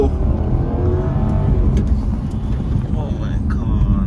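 A luxury sedan accelerates hard in sport and manual mode with traction control off, its engine note rising loud and close as a steady roar fills the cabin, with people talking over it.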